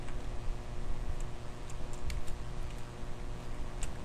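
HTML code typed on a computer keyboard, a light patter of quick key clicks over a steady background hum, close and faint with no voices.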